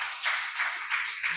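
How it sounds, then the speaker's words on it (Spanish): A church congregation claps in a steady rhythm during a service, roughly three beats a second, thin and somewhat distant, with no voices clearly heard. "Denle un fuerte aplauso"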